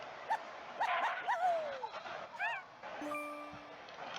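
Cartoon pup in the Farm Heroes Saga puzzle game gives a few short, bright yips and whimpers, mixed with chirpy game sound effects and a sustained chime tone.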